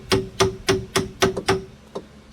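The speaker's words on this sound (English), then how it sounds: "So I'm using a bit of gentle persuasion with the hammer" A hammer taps a lower control arm into place on a Ford Puma Mk1, about eight sharp metallic knocks in a fairly even rhythm, close by and alone, with the final blows lighter and more spaced out.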